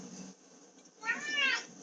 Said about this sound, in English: she starts meowing because she thinks that's time to be fed